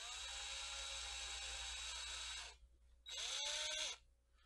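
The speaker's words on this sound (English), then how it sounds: "I've got this piece of crap from Black & Decker." A Black & Decker power drill whirs loudly with a steady high motor whine, cuts off, then gives a second shorter burst that winds up and down before stopping.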